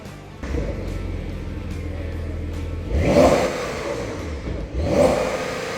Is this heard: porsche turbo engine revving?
yes